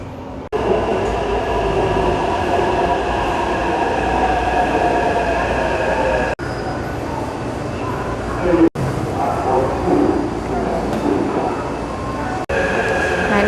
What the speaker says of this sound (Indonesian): kita mau naik kereta ini